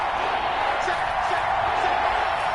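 Stadium crowd in the Madden 21 video game, a steady roar of cheering and whooping at moderate level that runs the whole time beneath an announcer's commentary.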